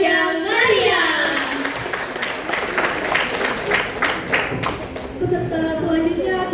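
Audience applause for a contestant at a school preaching competition (lomba da'i) in Kediri, a steady dense clapping from a crowd with a few voices mixed in, fairly loud throughout.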